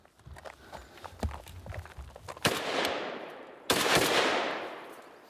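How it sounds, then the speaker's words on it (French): A used firearm fires a run of sharp single shots with irregular spacing, then two loud rapid bursts of automatic fire, each with a long ringing decay. "Ça, c'était coup par coup, maintenant en rafale."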